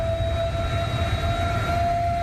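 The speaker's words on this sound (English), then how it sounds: "Just the storm sirens going off because there's a big bunch of storms approaching" Storm warning sirens sound ahead of an approaching band of storms, holding one steady, unbroken tone with faint overtones above a low rumble of background noise for the whole stretch.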